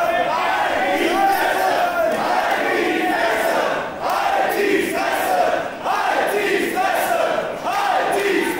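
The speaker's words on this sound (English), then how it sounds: "crowd chanting Lucha" A wrestling crowd at an Unlimited Wrestling New Dawn 2024 show chants "Lucha" in a loud, rhythmic group call, the chant swelling and dipping in repeated waves that fill the arena throughout.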